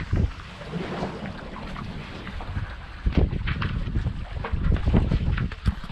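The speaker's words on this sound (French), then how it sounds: "là il y a un petit peu de vent qui revient" Wind rushes over a racing sailboat at sea, buffeting the microphone with loud gusty roars, while water slaps the hull and occasional creaks and knocks rise and fall over several seconds, with no voices.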